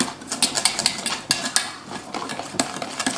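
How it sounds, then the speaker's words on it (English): Double cream being whisked in a bowl for macarons, a quick irregular run of clinking whisk strokes against the bowl, close and fairly loud, with no voices. "You just add volume to it by whisking it."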